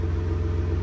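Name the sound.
Jeep JK engine running after power steering pump install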